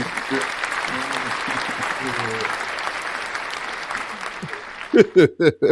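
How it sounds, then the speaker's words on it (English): A crowd claps continuously under people talking, then a few loud, distinct bursts of clapping stand out close by at the end. "Round of applause."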